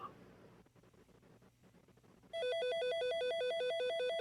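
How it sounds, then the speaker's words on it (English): A telephone rings in an FMV video game, starting abruptly after a couple of seconds of quiet room noise: loud, close electronic warbling trill repeating in a fast, steady alternating pattern. "I'll answer that phone here in a minute"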